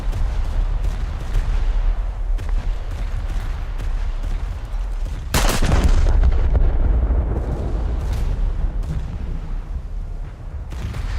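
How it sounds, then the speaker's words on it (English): Booming bursts of heavy naval gunfire in a video game rumble repeatedly, with one especially loud blast midway, deep echoing thuds continuing around it. "For some reason naval gunfire is just extremely loud."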